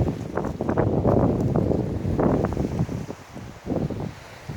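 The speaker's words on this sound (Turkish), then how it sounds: "Sıcaklık esiyor rüzgarla beraber." Strong, warm autumn wind blows outdoors in rural Bartın countryside, gusting loudly against the microphone and easing slightly toward the end.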